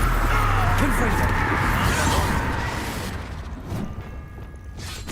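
Confringo blasting spell cast in the video game Hogwarts Legacy, a loud roaring burst that swells then fades over several seconds, with a voice speaking over it.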